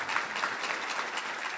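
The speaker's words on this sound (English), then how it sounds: "To rounds of applause" A college audience applauds in a short burst of steady, dense clapping, moderately distant and fairly quiet, with no speech.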